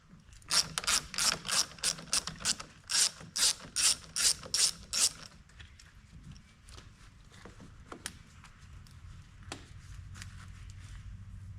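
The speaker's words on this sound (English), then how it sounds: "we're going to take a 10 mil and undo this cable going into the power distribution box" A ratchet wrench clicks in quick, loud bursts while loosening a 10 mm battery cable nut on a Ford F150, then gives way to softer handling noises and a few scattered clicks.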